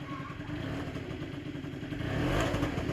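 An MBK Stunt scooter engine idles steadily at close range while warming up, a low putter with faint clatter that swells slightly near the end.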